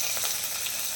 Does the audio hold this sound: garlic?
yes